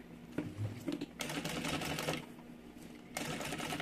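A domestic sewing machine stitches along the edge of synthetic mini backpack fabric, running in steady rapid bursts close up with short pauses between runs.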